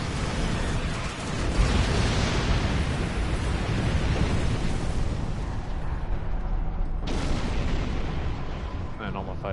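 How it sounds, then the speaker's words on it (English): A large explosion in Star Trek Online that wipes out a swarm of fighters: a sustained, heavy roaring blast of booming bursts, loud and continuous, fading with a sharp crackle near the end. "And all my fighters just died from the explosion."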